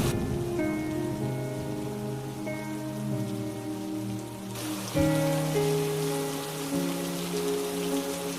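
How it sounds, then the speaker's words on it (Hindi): Heavy rain pours down over a village, a dense continuous hiss of falling water running beneath melodic background music, with a brief louder swell midway. "गांव में भयंकर बारिश शुरू हो गई।"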